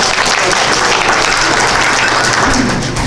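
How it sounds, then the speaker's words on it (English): A loud, close burst of audience clapping at a community gathering, thick and continuous throughout with no one speaking, easing slightly at the very end. "Did we clap?"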